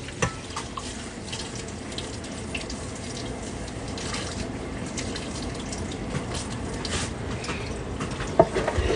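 Water runs from a kitchen tap in a steady hiss with occasional clinks and small knocks, heard at moderate loudness throughout.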